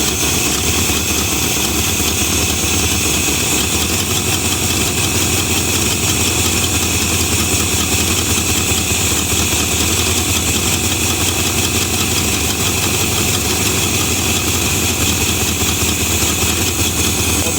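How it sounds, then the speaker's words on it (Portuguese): Chevrolet Opala V8 idling roughly after its first start on a freshly fitted Holley Quadrajet carburetor, a loud, continuous, uneven engine rumble heard up close with no one speaking. "já começamos com uma marcha lenta ali, irregular, mas tem"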